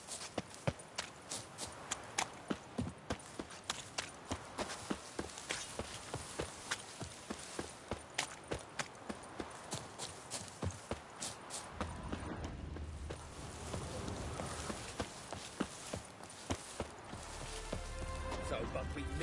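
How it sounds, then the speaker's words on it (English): Horse hooves clip-clop in a steady, rhythmic trot in the Witcher 3 video game, loud and continuous, with the pace shifting partway through over a soft ambient bed. "It's a horse."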